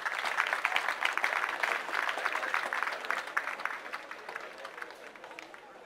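Audience at a cadet drill competition on a family weekend gives a brisk round of applause, dense clapping that starts strong and gradually thins and fades out.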